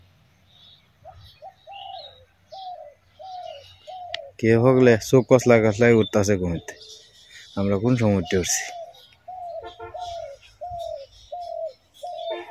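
Early-morning birds call outdoors, led by a dove cooing in a regular repeated phrase with softer chirps around it. Someone talks over the middle stretch.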